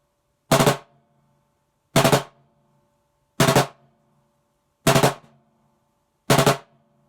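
Practice-pad percussion sticking with evenly spaced left and right strokes: five short, crisp, dry double-tap bursts at a steady pace about every one and a half seconds, close and alone.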